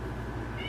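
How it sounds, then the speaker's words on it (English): A cat cries to be let in from outside the room, giving a short, muffled meow that sits low behind a steady background hum. "He's crying to come in"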